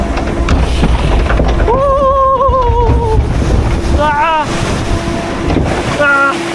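A flume-ride boat drops and splashes into the water at Bangkok's Siam Amazing Park, with loud, rushing water and wind over several rising screams from riders.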